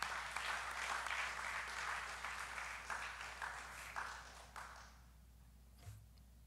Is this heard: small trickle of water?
no